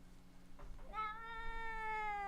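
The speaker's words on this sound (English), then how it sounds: "And there's a cat." A cat meows once in a long, drawn-out, rising call that follows a brief softer sound, fairly close and clear over a low steady background hum.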